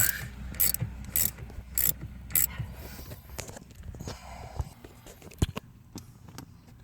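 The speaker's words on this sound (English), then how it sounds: "we're going to go ahead and completely remove this bolt. I'm going to back it all the way out, take it completely out" Ratchet backing a bolt out of the power steering motor assembly on a 2008 Chevy HHR, with close, loud rhythmic ratcheting bursts at first, then quieter clicks and a few knocks as the bolt comes free.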